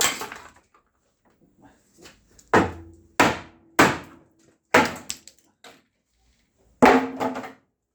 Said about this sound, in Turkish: Şimdi parçalama işlemine geçeceğim. Odunlarını ayıracağım.